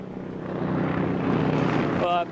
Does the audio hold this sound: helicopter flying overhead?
yes